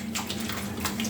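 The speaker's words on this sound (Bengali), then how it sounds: "এজন্য আমি করলা এবং আলু ভাজির মতো কেটে ভালোভাবে ধুয়ে নিচ্ছি" Cut bitter gourd and potato pieces being washed in water, with splashing and sloshing bursts over a steady hum, close and continuous for a brief moment.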